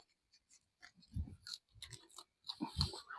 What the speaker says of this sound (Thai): จะเคี้ยวให้ดู